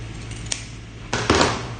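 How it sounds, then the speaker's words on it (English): Scissors snip through fabric being cut for a turban, a few short crisp cuts, close and fairly quiet over a low room hum. "So I'm going to cut this part off"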